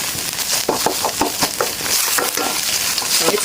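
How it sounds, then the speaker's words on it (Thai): Whole head-on shrimp simmering and being stirred in a pot for a Thai mixed seafood rice soup, giving close, bright sizzling with repeated short scraping bursts. "เคี่ยวกุ้งให้สุก"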